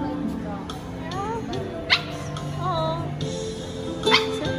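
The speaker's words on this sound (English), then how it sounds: "There's puppies. I heard puppies." High-pitched puppy whimpers and squeaky yips rise and fall repeatedly, close by, amid background chatter from people talking.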